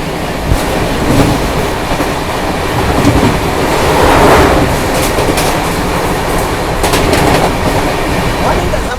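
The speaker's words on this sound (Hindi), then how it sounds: "वैसे दोस्तों होने वाली है गोवा एक्सप्रेस की क्रॉसिंग" Goa Express train passing a level crossing on a cold morning, a steady broad rumble of rail cars with faint wheel clatter and occasional high squeals, sustained and fairly close throughout.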